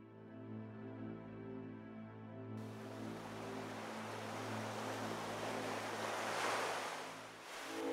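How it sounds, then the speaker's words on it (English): Surf rolling onto Gyllyngvase beach at Falmouth, a sandy beach bordered by rocky reefs: a steady, close wash of breaking waves with constant hiss, swelling slightly louder toward the end, no voices. "Gilling Vase is Falmouth's largest beach."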